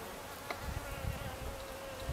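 Honey bees crawl over open honey cells on hive frames during a spring hive check, producing a quiet, continuous buzzing hum with a few brief louder passes nearby.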